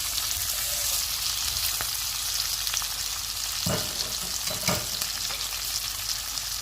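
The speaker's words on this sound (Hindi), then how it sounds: "अब इसमें हम प्याज डाल देंगे और इन्हें भी 2-3 मिनट तक फ्राई करेंगे।" Chopped onions frying in a pan for chilli fish make a continuous close hiss and sizzle, with two louder stirring scrapes partway through and no talking.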